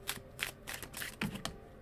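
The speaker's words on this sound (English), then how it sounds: "I just picked up this deck and started shuffling" A deck of tarot cards is shuffled, giving a run of soft, papery riffling bursts close by, several quick flurries over a couple of seconds.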